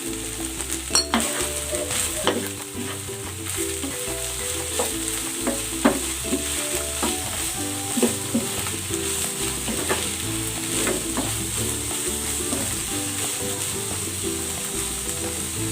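Eggplant stir-fries with chili garlic sauce and spring onion, a steady loud sizzle and crackle running throughout with repeated scraping stirs and occasional utensil clinks against the pan.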